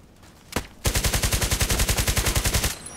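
FN SCAR-H rifle in the video game Contract Wars, one single shot followed by a rapid sustained automatic burst of about twenty evenly spaced sharp cracks, close and loud.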